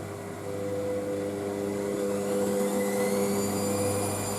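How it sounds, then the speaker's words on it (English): Indesit IWC6165 washing machine on a spin cycle with a dark colours load, a steady close motor whine with rising pitched tones as the drum speeds up, loud and continuous with no talk. "Definitely that's going to spin that anyway, because it'll be very unbalanced, this machine will."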